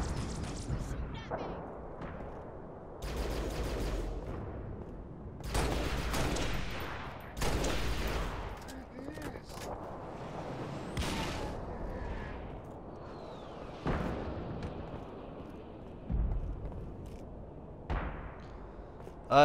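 Halo Reach combat with repeated bursts of gunfire and explosive bangs spaced every few seconds, moderately loud, mixed with a player talking over the action.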